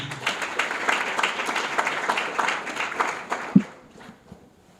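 An audience at an anniversary ceremony applauds in a sustained burst of many hands clapping, then the clapping thins out and fades to near quiet at the end.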